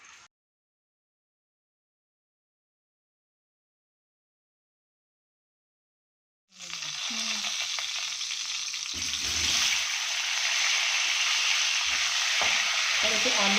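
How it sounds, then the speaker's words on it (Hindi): Eggs, scored with small cuts, fry in hot oil for a potato egg curry: after several seconds of near silence a loud, close, continuous crackling sizzle starts up and keeps going, with occasional stirring clatters underneath. "अंडों को थोड़ा थोड़ा मैंने कट लगाया हुआ है, ऑयल में हम हल्का सा इसको फ्राई कर लेंगे।"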